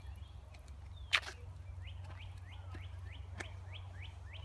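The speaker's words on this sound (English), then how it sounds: "You can hear the birds chirping." Small birds chirp in a garden with paths and stairs, a series of quick repeated high sweeping notes at a steady rhythm, faint and somewhat distant over a low outdoor hum, with a brief sharper sound near the start.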